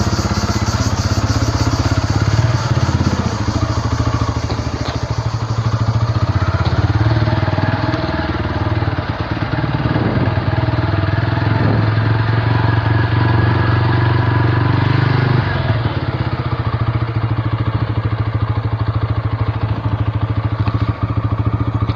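A motorcycle engine drones loud and close through a whole ride, a steady mid-pitched running note with slight rises in revs and some rattling clatter, and no talking over it.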